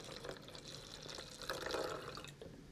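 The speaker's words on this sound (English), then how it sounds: "as the water pours" Water is poured into a container fitted with a capacitive liquid level sensor, a faint, steady trickle and splash heard softly throughout.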